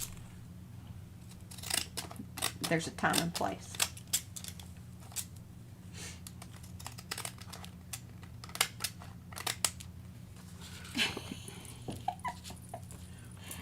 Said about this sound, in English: Don't ever give up on your decorative scissors.